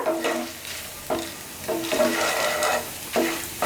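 Kashmiri chillies and other ingredients sautéing in a pan for hotel-style kara chutney, with a steady frying sizzle broken by repeated scraping stirs, close and fairly loud, no voices.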